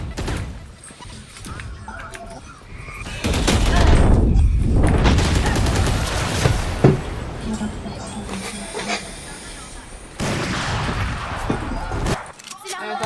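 Bombardment explosions and gunfire crash through an online video game match in a dense, sustained barrage, with heavy blasts swelling and fading, while a voice talks over the action.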